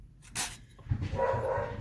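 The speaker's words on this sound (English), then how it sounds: "God, my dogs are hyper tonight." Excited dogs bark in short bursts indoors, a couple of quick woofs and whimpery yips at a moderate distance, with no talking.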